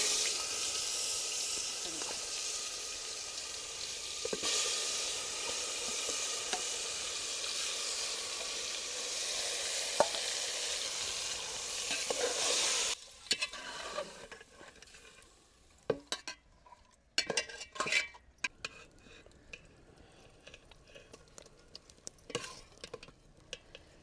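Mutton dropped into hot oil with green cardamom, pepper and cloves sizzles loudly and steadily, then gives way to quieter scraping and clattering stirring sounds with intermittent knocks.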